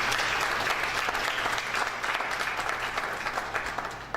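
An audience at a school reading competition opening ceremony gives sustained, even applause, a dense crowd of clapping hands that carries on at steady volume and thins slightly near the end.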